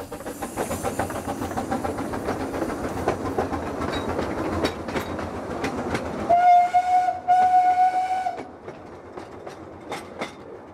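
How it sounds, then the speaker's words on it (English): A steam-hauled train on a private railway along the old Somerset and Dorset trackbed, running as the Pines Express: steady rolling rumble and clatter close by, then a long loud whistle blast lasting a couple of seconds before the run continues. "we can now say we have ridden on a steam hauled Pines Express on the old S&D"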